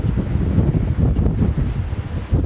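Strong wind whips across a top-floor balcony overlooking Miramar Beach in Destin, Florida, a steady close rumble of buffeting against the microphone with faint surf beneath, no talking.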